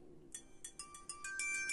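Boldragon B39 action camera (also sold as LeadEdge V39) powering on: a startup jingle of about eight short electronic beeps, rising in pitch and volume, then turning into a sustained tone. It plays alone with no talking.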